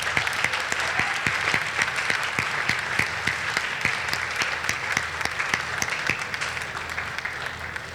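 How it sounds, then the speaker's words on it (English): An audience applauds new Tri-M music honor society members at a high school induction, a dense, even round of clapping from many hands that carries steadily from start to finish. "one more round of applause, please,"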